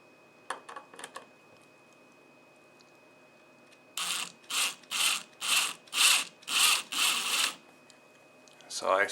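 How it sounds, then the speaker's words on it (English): A cordless drill drives a drywall screw into a gear plug on a 1995 Ford F150 window regulator, giving a series of about eight short, loud grinding bursts in a steady rhythm after a few quieter scrapes. "I'm going to take a drywall screw and drive it part way in there"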